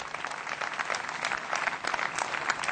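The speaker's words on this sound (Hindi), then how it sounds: "अगर करते हैं तो तालियां बजाएं।" An audience at a degree ceremony gives a short round of soft, distant applause that stays steady and fairly faint throughout.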